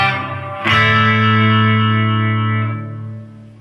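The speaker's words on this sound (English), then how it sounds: "which is a sort of reverb." Electric guitar played through a Fender Champion 40 amplifier with a reverb effect: a single loud strummed chord rings out and sustains with a long reverb tail, slowly fading near the end, with no talking.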